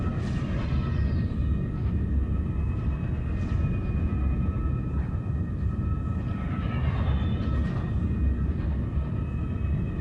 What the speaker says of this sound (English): I don't think many people are going to be interested in what the afterburner sounds like